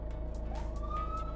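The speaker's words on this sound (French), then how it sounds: "On conduit l'ambulance." An ambulance siren wails at moderate distance, its rising electronic tone sweeping upward over a steady low engine rumble, with no talking.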